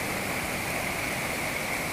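Mountain stream flowing in steady, dense rushing noise, close and constant throughout with no voices.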